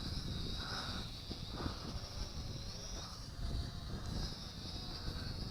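A JDTOYS JD-10HW FPV drone slowly descends in automatic landing from high up, its thin, steady propeller whine droning continuously with faint wavering pitch, distant and fairly quiet throughout.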